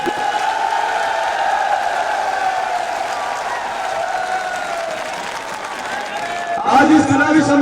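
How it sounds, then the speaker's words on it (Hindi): A large crowd applauding at a Congress election rally in Viratnagar, a dense steady clatter of clapping throughout with a burst of cheering at the end, while someone speaks over a loudspeaker. "विराटनगर की तालियां इतनी जोर से बजनी चाहिए कि दिल्ली से गाना जानी चाहिए"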